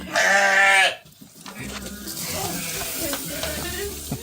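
A sheep on a fiber farm raising sheep and alpacas gives one loud, drawn-out bleat up close, followed by busy rustling and shuffling farmyard noise.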